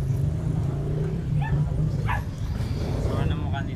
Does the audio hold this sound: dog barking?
yes